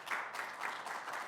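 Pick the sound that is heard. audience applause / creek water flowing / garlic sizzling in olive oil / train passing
audience applause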